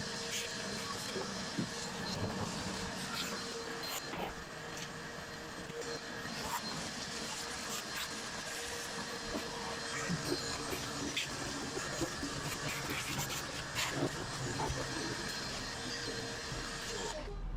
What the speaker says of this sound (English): I'll vacuum it out real quick.